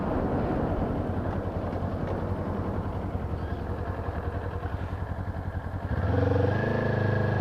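A Kawasaki Z400 sport bike with a very light flywheel idles with a steady engine rumble, then revs up louder as it pulls away, heard close and alone with no talking.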